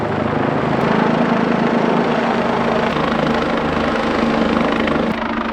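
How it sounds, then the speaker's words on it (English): A Coast Guard helicopter passes over a bay during a storm, its steady rotor thump and engine drone loud and continuous throughout, with no voices. "that's the first time I've had a Coast Guard helicopter fly over the bay"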